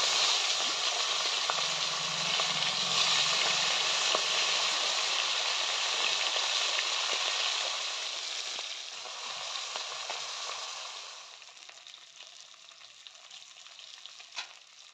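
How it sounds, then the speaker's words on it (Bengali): Hilsa fish heads frying in oil in a wok, a loud steady sizzle that gradually softens and thins over time, with occasional faint crackles near the end. "এবার কিন্তু এক এক করে ইলিশ মাছের মাথাগুলো ভেজে নেব।"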